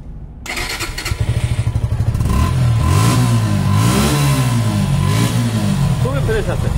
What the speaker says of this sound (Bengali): বাইকটা যদি সাউন্ড দেখেন আপনারা,